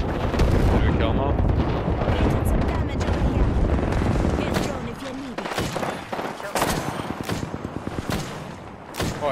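Apex Legends gunfire plays loud and dense throughout, with rapid shots and booming impacts layered over busy game sound, plus a few sharper isolated cracks near the end.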